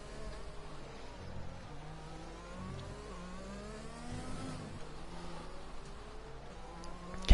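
Race car engines in a racing video game on a Mexico circuit: several whining, buzzing motors rise and fall in pitch as cars accelerate and pass, a steady moderate drone that ends with a sharp loud burst.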